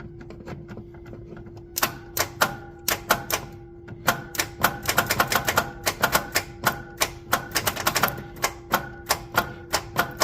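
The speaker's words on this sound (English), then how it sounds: "Now if we just promptly put this here and beat it, and then just cram the Leatherman back into the starter solenoid" A Leatherman tool repeatedly striking a starter solenoid, sharp metallic taps in quick irregular bursts, close and fairly loud over a steady low hum.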